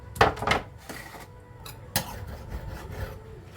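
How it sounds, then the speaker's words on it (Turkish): Black cabbage being finely chopped with a knife on a wooden cutting board: a few sharp, irregular knocks and scraping cuts, close and fairly quiet. "Bunu güzel bir doğrayacağım tahtayla beraber şıkır şıkır incecik"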